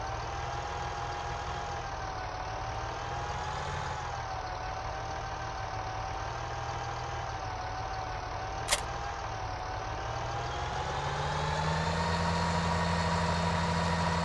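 Steady tractor engine drone from Farming Simulator 18 while a wheat trailer is emptied, a continuous mid-pitched hum with one brief click partway through and a slight swell in low rumble near the end, no talking.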